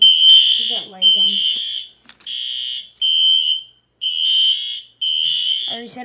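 A building fire alarm blares loud repeated electronic tones in long bursts with short gaps during a system test, and a voice speaks briefly between the tones.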